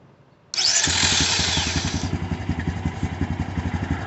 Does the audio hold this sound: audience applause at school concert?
no